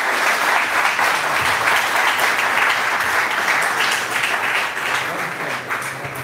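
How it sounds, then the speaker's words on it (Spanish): An audience applauds a priest at a Catholic gathering in Chilpancingo, Mexico, with steady, dense clapping from a sizable crowd that holds fairly even throughout and eases slightly toward the end. "Vamos a dar un aplauso al Padre"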